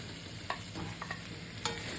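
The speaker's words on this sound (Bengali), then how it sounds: "এবার এই পটল ভেজে রেখেছি, এই পটল দিয়ে দিলাম, আলু দিয়ে দিলাম" Pointed gourd and potatoes fry in a pan with a soft, steady sizzle. A few quick scraping stirs sound close by.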